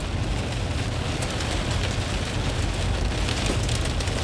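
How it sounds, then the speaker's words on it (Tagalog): Steady, dense patter of heavy precipitation drumming on a surface, hail mixed with rain, continuous and loud with no voices. "Hail na may kasamang ulan,"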